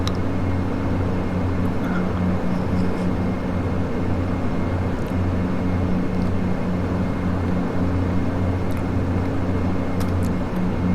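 Turboprop engines of a Dash 8 airliner in Flight Simulator X drone in a steady loud hum with a constant low tonal throb, cockpit-close and unbroken, with no talk.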